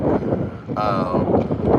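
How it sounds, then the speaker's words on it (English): Strong wind buffets the microphone at a bay beside a large Chinese coastal city, a low rumbling gust under a person talking, with a brief brighter tonal whoosh in the middle. "It's very windy here today."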